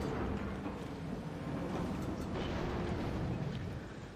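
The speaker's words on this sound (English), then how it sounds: "Oh, there's a torpedo, didn't see that one. Oh, going to take a hit." A torpedo strikes a warship in World of Warships, giving a broad, heavy explosion rumble that surges loud and then slowly rolls off, with no talk over it.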